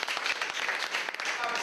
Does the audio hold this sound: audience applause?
yes